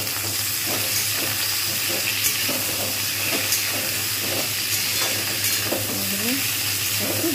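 Pointed gourd, ridge gourd and drumstick pieces frying in a pan for shukto, a constant loud sizzling hiss broken by regular scraping stirs, close up, with no talking.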